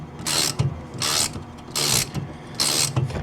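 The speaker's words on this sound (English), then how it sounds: "we'll remove the bolt, 13 mil" A hand ratchet on a 13 mm clutch bolt of a 2002 Polaris snowmobile gives four crisp bursts of rapid clicking, close and regular, with short pauses between strokes.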